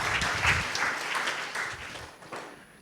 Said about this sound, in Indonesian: Yang setuju berikan tepuk tangan yang meriah buat Tuhan kita.